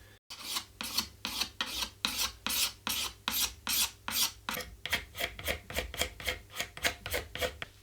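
Sandpaper rasps back and forth across an old rosewood bridge on a 12-string guitar, about twenty rhythmic close strokes that quicken toward the end, crisp and alone with no voices.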